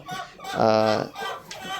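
Laying hens on an integrated poultry farm fed with maggots give a close, loud, drawn-out cluck followed by softer clucking.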